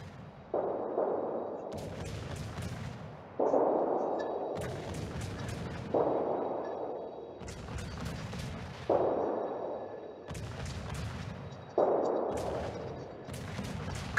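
Warship artillery in World of Warships, main guns firing at an enemy ship: heavy booming salvos roughly every one and a half seconds over a continuous engine-like rumble, moderately loud and steady.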